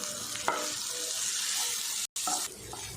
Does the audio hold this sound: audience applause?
no